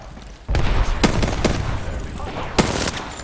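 Gunfire in the Apex Legends video game, a few sharp shots and short bursts fired close over about three seconds, against a steady game background.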